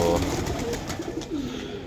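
Young racing pigeons coo close by in a low, throaty burble that keeps going through the whole short stretch, with no talking.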